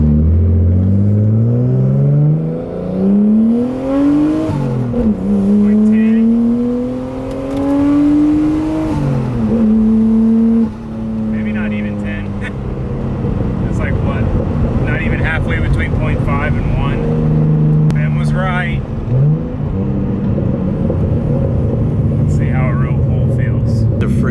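A JDM car with a turbo on a test drive, its engine revving up through the gears with rising tones that fall at each shift, loud and close inside the cabin, with someone talking over it.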